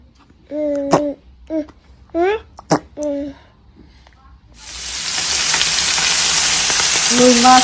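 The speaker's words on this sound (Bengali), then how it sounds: "আর পাবদা মাছ একসাথে ফ্রাই করতেছি" Pabda fish frying in a pan, a loud broad sizzle that starts suddenly midway and holds steady to the end, preceded by a woman's speech, with talk resuming over the sizzle at the end.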